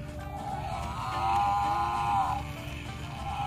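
A toy water buffalo gives a single drawn-out electronic moo, rising then fading, heard close and alone over faint background hum.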